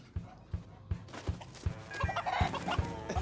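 Chickens clucking while mating, a rhythmic series of low clucks about every half second, close and fairly faint, with a rougher burst of flapping and squawking toward the end.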